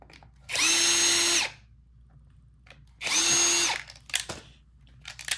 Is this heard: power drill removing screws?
yes